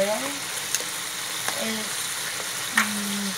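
Chicken pieces fry in hot oil for a traditional Ilokano vegetable pork stew, giving a steady close sizzle with a few sharp pops and stirring clicks while a person talks over it.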